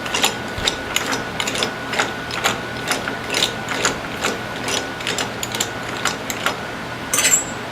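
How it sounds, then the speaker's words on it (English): Wrench spun around a smooth-working collet on a Marvel Schebler carburetor gives a steady run of rapid, even ratchet-like clicks, close and fairly loud, continuing throughout with no talk. "you can take your wrench and spin it like this"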